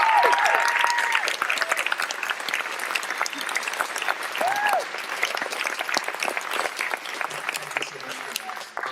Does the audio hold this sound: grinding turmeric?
no